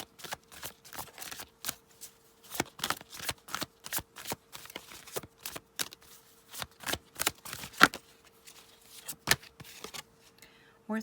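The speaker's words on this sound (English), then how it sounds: "let's get a card from the Romance Angels" A tarot oracle deck of Romance Angels cards is shuffled up close, giving dense, irregular bursts of papery flicks and snaps over about eleven seconds against a faint steady hum.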